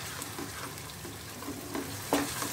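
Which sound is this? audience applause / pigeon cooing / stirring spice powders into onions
stirring spice powders into onions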